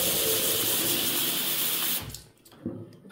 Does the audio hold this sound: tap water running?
yes